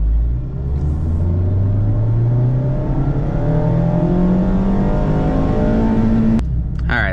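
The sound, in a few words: Mazda ND Miata with Roadster Sport Race exhaust accelerating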